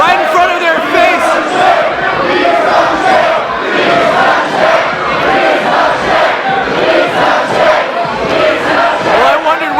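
A loud wrestling crowd at an indoor independent show chants and cheers continuously in rhythmic waves, many voices shouting together close by.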